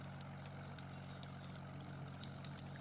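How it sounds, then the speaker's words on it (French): A propeller airplane in the Roblox video game drones steadily at full speed, a constant engine hum with a low rumble and faint higher whine, continuous throughout with no talk. "Je pense que j'ai fait l'avion le plus rapide de Roblox."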